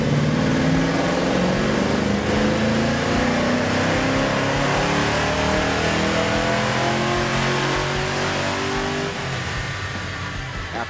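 Ford 363 cubic-inch small block V8 in a Fox body Mustang on a chassis dyno, roaring loudly and steadily as it revs up through a long sustained pull, the pitch climbing throughout.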